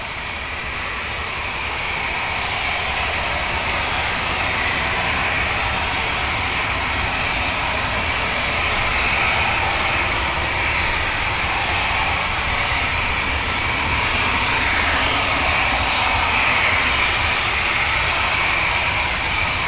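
Aircraft engines at Manchester Airport give a continuous broadband roar that swells over the first seconds and then holds loud and steady throughout.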